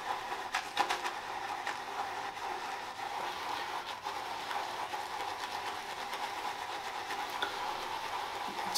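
A brush stirs shaving soap with added water in an unbreakable bowl, making faint, quick wet swishing and clicking strokes in a steady rhythm close by.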